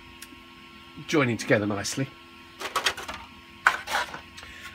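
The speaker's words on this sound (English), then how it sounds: "the noise you can hear in the background, by the way, is the ailerons being printed" A steady mechanical whirring and faint stepping hum of a 3D printer printing RC plane ailerons runs in the background while someone talks over it.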